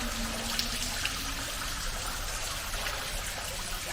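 A small waterfall trickles into a garden pond in a winter garden, a constant close-up splashing wash holding steady throughout without talk.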